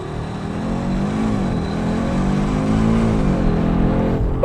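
A 2024 Audi RS3 facelift launches on a track with launch control, its engine roaring loudly and steadily as revs climb through gears, close and continuous with no talking.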